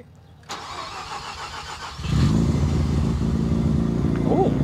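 A Mazda RX-7 rotary engine with a new exhaust cranks and catches, then settles into a deep, steady idle that rumbles on loudly and close by.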